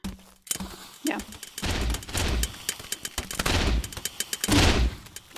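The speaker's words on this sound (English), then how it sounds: "A lot of grenades going off." Grenades explode repeatedly in a team-based multiplayer video game playoff match, a rapid string of loud booms and gunfire-like bursts packed close together, with a commentator's voice running underneath.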